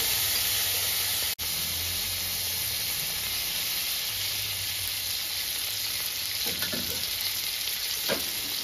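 Oil sizzling and frying in a pan for a Telugu home-style dish, a steady close broadband hiss that runs throughout with a brief dropout early on and faint stirring clicks near the end.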